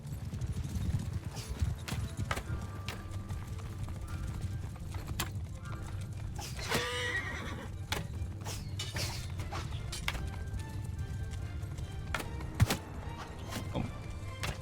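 Horses clip-clop steadily in Mount & Blade II: Bannerlord, a dense run of hoofbeats from mounted archers moving forward, with battle clatter, a brief whinny and distant shouting voices mixed in.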